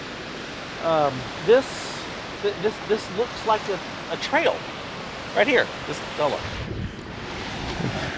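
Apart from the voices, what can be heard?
small waterfall at a campsite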